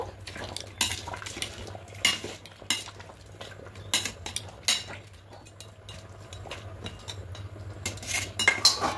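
Spoon stirring chicken curry in a metal pot, faint scraping and scattered clinks against the sides over a low steady hum, with no talking.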